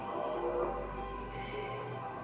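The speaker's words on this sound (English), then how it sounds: "I can hear the crickets chirping." Crickets chirp outdoors, a faint, steady high-pitched trill that continues the whole time beneath a soft low background hum.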